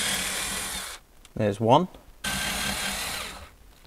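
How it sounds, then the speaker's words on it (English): A power drill bores out the rivets holding an old speaker in a Fiat/Abarth 500: a loud, steady whir runs for about a second, stops for a brief spoken remark, then whirs again for over a second before cutting off. "So I'm gonna just drill out these rivets and get this horrible old speaker out."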